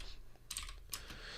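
Keystrokes on a computer keyboard in two short bursts of quick, close clicking, the first longer than the second, over a quiet room hiss with no talk.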